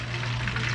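Shrimp frying in piping hot oil, a steady close sizzle and crackle running unbroken without any talk.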